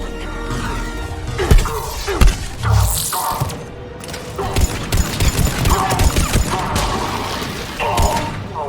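Gunfire rattles through a firefight in the video game Mass Effect 3, with bursts and heavy thuds over a dense, noisy battle mix and game music.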